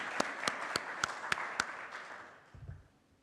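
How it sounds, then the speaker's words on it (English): Scattered applause from a church congregation at a service: a few distinct sharp claps in a sparse, uneven rhythm that thin out and fade, ending in near quiet with a low thump. "Let's give them another applause."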